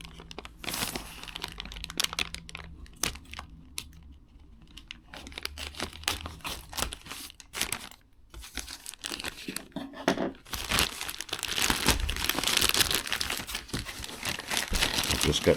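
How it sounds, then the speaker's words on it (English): Plastic packaging around GTMedia N4 night vision binoculars is torn open and crinkled, with bursts of crackling, rustling and tearing that come and go before growing into dense, close crumpling near the end. "So let's get the package open."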